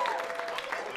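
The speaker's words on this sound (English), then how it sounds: "Y'all clapping." Brief applause from a comedy club audience during a stand-up set, a short burst of crowd clapping with some voices mixed in.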